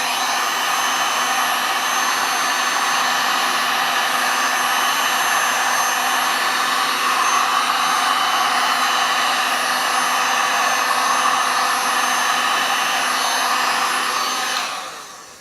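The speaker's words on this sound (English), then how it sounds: "You see how that really reacts to the heat gun?" A heat gun blows steadily on resin art for about fifteen seconds, a loud, even roar of rushing air that holds constant throughout, then cuts off at the very end. No one speaks over it.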